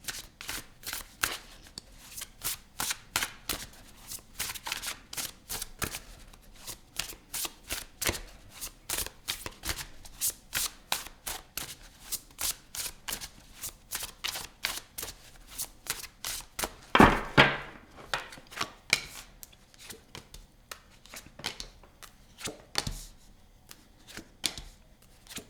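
Tarot cards being shuffled by hand, a long run of crisp rapid riffling flicks with a louder burst of card noise near the end, close and alone with no talking.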